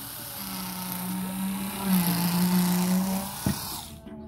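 An AS-100K mini electric 2-inch rotary cutter, 110 volt, cuts through layers of fabric on a cutting mat, a steady close motor whine with a sharp click near the end before it stops.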